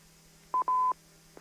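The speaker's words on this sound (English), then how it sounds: "Oh, we got a phone call." Telephone touch-tone beeps come through on an amateur radio net: a short tone, then a longer steady one and a brief faint blip, loud and clear with no talking.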